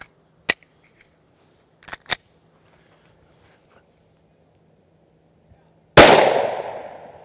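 A Glock 43 pistol fires a CCI 9mm shotshell outdoors: a few light handling clicks, then one loud, sharp report with a ringing decay.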